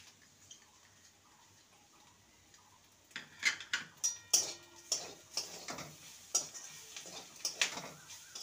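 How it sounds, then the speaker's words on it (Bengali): Noodles tossed with spices in a pan for a potato spring roll filling: a quiet start, then a steady run of close scraping, clinking stir strokes for the last five seconds, with no talk. "নুডলস মশলা দিয়ে ভালো করে নেড়ে নেব।"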